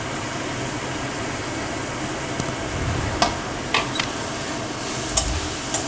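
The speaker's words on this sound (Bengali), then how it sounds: "দিয়ে ভালো করে পেঁয়াজটা ভেজে নিতে হবে।" Chopped onions and green chillies frying in a pan, giving a dense, even sizzle close by, with occasional sharp clicks of a spatula stirring and scraping in the latter half.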